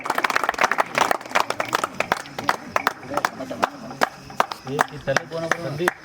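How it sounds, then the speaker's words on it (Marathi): An audience at a Hanuman Janmotsav celebration in Machal village claps steadily, sharp hand claps overlapping in a brisk, lively rhythm with voices mixed in underneath. "सर्वांनी टाळ्या वाजवायचे"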